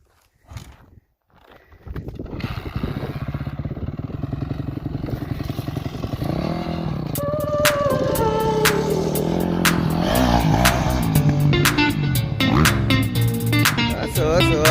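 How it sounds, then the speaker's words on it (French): A Yamaha 250 YZF dirt bike coughs to life after a brief start attempt, then its engine drones steadily and grows louder as it rides over a bumpy outdoor spot, with rattles and clattering knocks building up. "pilote, je te laisse démarrer la bécane"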